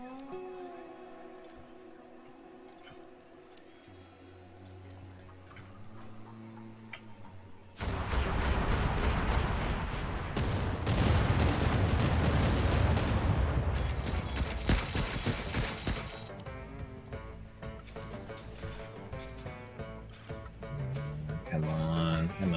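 A gunfire barrage in the Stranded: Alien Dawn video game, dense rattling bursts of shots erupting after a quieter stretch of game music and lasting several seconds before easing off.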